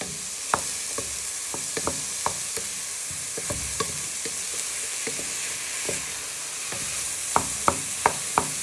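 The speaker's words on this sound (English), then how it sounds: "we're just using our back of our wooden spoon to first to coat them in, and then we will soften them using the back" A wooden spoon stirs and presses tomatoes in a pan for prawn and tomato spaghetti, a low sizzle under irregular soft knocks and scrapes that sharpen into a quick run of taps near the end, close and alone.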